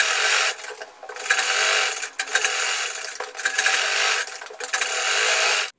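A sewing machine stitches a side pocket onto pajamas in bursts of rapid mechanical whirring, stopping briefly between runs, close and loud with no talk.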